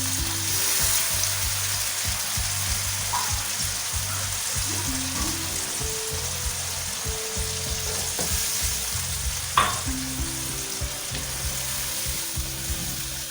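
Tomato and onion masala for a kabab karahi sizzles loudly in a hot pan after a cup of water goes in, with a steady crackling fry and soft scraping of a spoon stirring underneath, and no talking.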